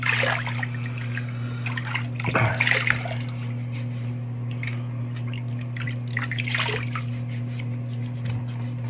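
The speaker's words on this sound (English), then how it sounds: "Just gonna wash my face" Running tap water while someone washes their face at a sink, steady flow with splashes and drips, a low hum beneath, and no talking.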